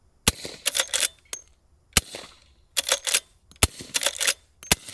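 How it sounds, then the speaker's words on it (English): A suppressed lever-action rifle firing subsonic .38 Special gives four muted, sharp reports, each followed by the clattering metallic rattle of the lever cycling. The sounds are close and there is no talk. "You got a lever action, suppressed, and now I'm gonna shoot something that's subsonic."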